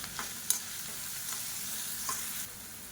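Onions and green chillies sautéing in a pan for sambar, a steady soft sizzle with occasional light stirring scrapes, close and continuous without talk.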